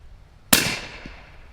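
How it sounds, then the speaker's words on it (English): A single suppressed .350 Legend rifle shot with Winchester Super Suppress ammunition: one sharp, loud pop followed by a short fading tail, with quiet surroundings before it. "Now we're going to put 3 rounds of the Winchester Super Suppress down range."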